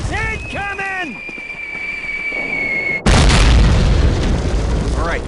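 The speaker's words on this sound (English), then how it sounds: "Incoming! Mortars!" Mortar shells hit in Call of Duty: a sudden, very loud booming blast arrives partway through and is followed by a sustained roar of rumble and debris, after shouted voices and a whistling tone.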